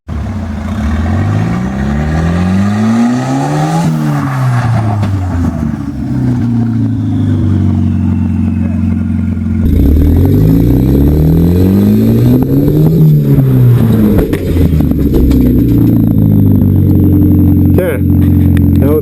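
A Volvo car with a bent frame is driven repeatedly into a wall to straighten it, its engine revving up and down in close, loud sweeps, with a sharp thud near the end.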